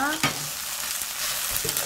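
Chili powder, garlic, gochujang and doenjang stir-frying in a pot for a Spam tofu stew, giving a steady sizzle with a few scraping stirs, loud and close, without any talking.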